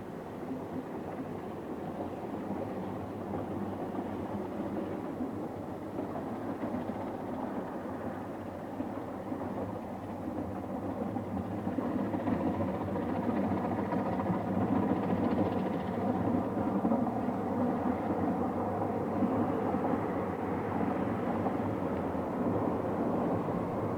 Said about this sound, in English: the last train of a long weekend of celebration is approaching the power station at Tannagrisha